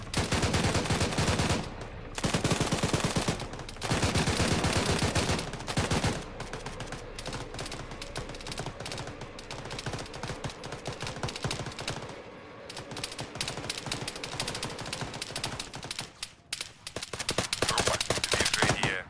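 Dense 7.62 gunfire in the military video game Arma 3: loud, rapid bursts and sustained automatic volleys that fill nearly the whole stretch, broken by a few short pauses.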